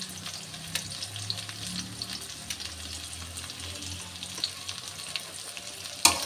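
Chopped onions and a bay leaf fry in oil in a pan, giving a steady close sizzle with light stirring scrapes and a sharp clink at the end.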